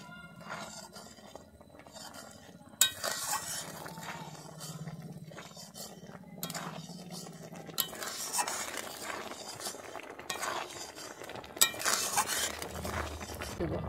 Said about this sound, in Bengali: দিয়ে আমি ভালোভাবে মিশিয়ে নিচ্ছি